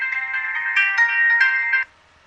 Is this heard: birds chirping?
no